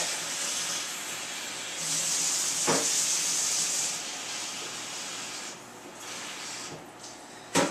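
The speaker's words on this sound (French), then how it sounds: "Là, je vais juste mettre de l'eau, ce ne sera pas bien long." Water poured into a hot pot of cooking rice, hissing and steaming in a broad rush that grows stronger midway, then tapers with a few sharper splashes and spits toward the end.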